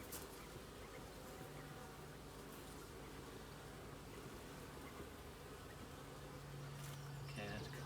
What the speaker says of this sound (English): let's calm those bees a bit